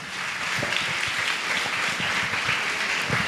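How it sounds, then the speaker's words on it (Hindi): Congregation clapping in thanks to God at a Hindi-language church service, loud, dense and steady applause filling the whole moment with no talk over it. "हम तालियां बजा के परमेश्वर को धन्यवाद दें"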